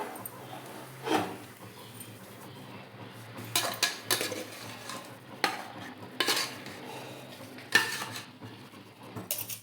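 Mashed dal tipped into a pan of ghee-roasted sweet potato and stirred, with a spoon scraping and clinking against the metal pan in several bursts over a low background hum.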